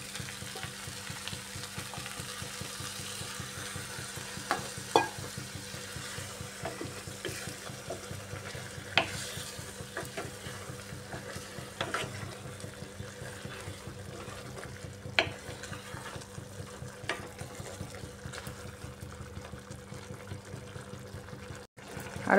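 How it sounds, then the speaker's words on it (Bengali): Potatoes, mung lentils and pointed gourd simmer in a pan after water is added, giving a steady, soft bubbling sizzle with a low hum and a few faint clicks throughout, with no talking. "এবার জল দিয়ে দিচ্ছি।"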